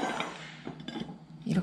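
Dishes and a bowl clink and clatter briefly, a few light knocks of ceramic close by.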